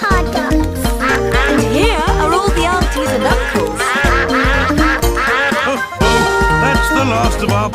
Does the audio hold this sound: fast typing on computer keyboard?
no